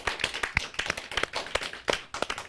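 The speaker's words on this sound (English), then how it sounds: "Big round of applause." Studio audience on a TV talk show applauding with rapid, fairly light hand claps over a couple of seconds, close and moderately loud, with no talking.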